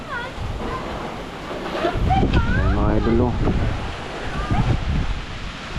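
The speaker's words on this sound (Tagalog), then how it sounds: "Malakas na naman ang hangin sa amin." Strong wind buffets the microphone with a constant rumbling roar, while a person speaks briefly over the gusts.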